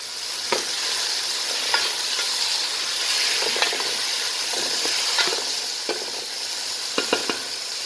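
Tomatoes are stirred in a hot frying pan while chicken kabsa is prepared, a steady hissing sizzle punctuated by regular scraping strokes of a spoon against the pan.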